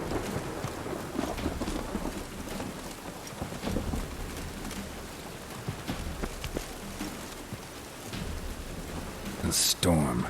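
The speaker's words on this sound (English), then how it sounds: "A storm." Steady rain and rolling thunder from a storm in the video game The Witcher 3, a dense continuous downpour with low rumbles and a louder crack near the end, no talk over it.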